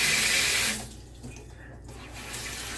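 A spatula rinsed under a running kitchen tap, a loud steady gush of water that drops to a softer, uneven trickle and splash as the utensil passes through the stream, close by and with no talking.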